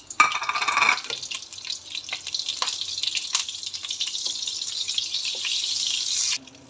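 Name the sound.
butter melting and sizzling in an oiled wok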